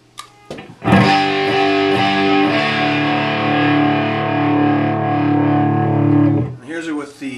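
An electric guitar played through a Spaceman Effects Aphelion pedal rings out in a sustained, distorted chord with rich harmonics after a few short plucks, holding for several seconds before being cut off, followed by brief muted notes.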